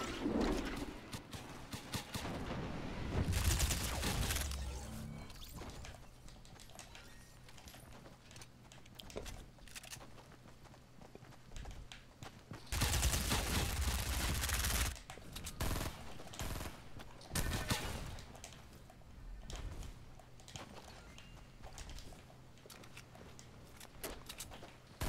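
Bursts of SMG gunfire in the Fortnite video game, with rapid volleys clustering near the start and again around the middle, separated by quieter stretches of scattered game noise.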